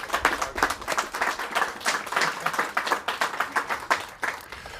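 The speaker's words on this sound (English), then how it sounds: "So a round of applause for our firefighters." A crowd gives a round of applause for firefighters at a Tiverton liberty pole re-enactment, steady clapping of many hands lasting several seconds at moderate volume.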